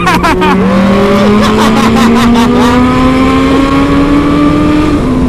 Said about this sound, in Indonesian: knalpot lo bener-bener sadis Ki